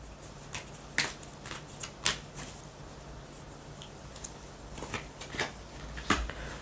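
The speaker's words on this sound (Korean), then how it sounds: "조언 카드 하나 뽑아볼게요." Tarot cards drawn and shuffled from a deck, giving a few sharp, quiet snaps and flicks spaced irregularly over soft background hiss, with no voices.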